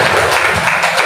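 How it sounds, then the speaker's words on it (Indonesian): A church congregation claps and applauds for Jesus Christ, a loud, continuous wash of many hands close by that fills the brief moment. "Berikan tepuk tangan bagi Tuhan Yesus Kristus."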